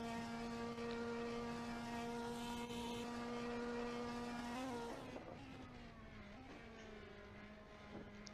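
Ferrari Challenge race cars in the Assetto Corsa sim at Spa-Francorchamps drone with a steady, harmonic engine whine that holds, then drops in pitch and wavers as cars pass, faint and continuous throughout.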